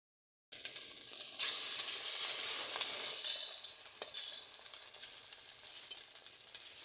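Eggs frying in a pan for a home breakfast, a steady close hiss and crackle with scattered spits and scraping stirs, starting abruptly after a brief silence and continuing alone.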